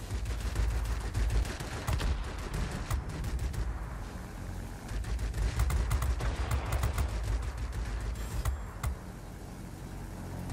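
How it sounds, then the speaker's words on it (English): Wing guns of a Corsair F4U-1 fighter in World of Warplanes fire at an anti-aircraft gun in long, rapid rattling bursts over a steady engine roar, loud and close throughout. "Let's shoot this AA for our allies."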